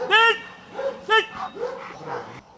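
A large shepherd dog barks loudly twice during training, with softer whining yelps and grumbles in between.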